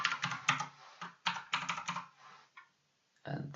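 Quick bursts of key clicks on a computer keyboard, close and fairly soft, with short pauses between typed runs and a final burst at the end.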